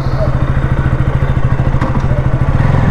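A KTM RC 200 GP Edition motorcycle engine chugs close by with a steady low pulsing throb, loud and continuous as the bike sets off at night.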